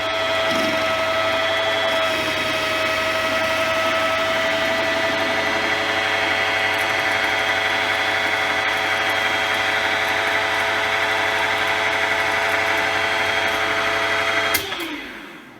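Bench grinder stone running while a drill bit is ground by hand, a loud steady whine with sustained tonal hum that holds evenly, then spins down abruptly near the end.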